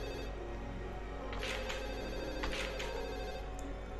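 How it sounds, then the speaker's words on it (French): In a video game, a telephone bell rings in short bursts, faint and somewhat distant over a constant background hum. "Ah, il y a un téléphone là-haut."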